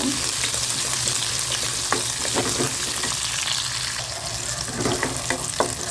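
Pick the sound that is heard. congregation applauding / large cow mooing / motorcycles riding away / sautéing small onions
sautéing small onions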